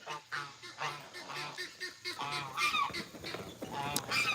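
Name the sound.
baby goose honking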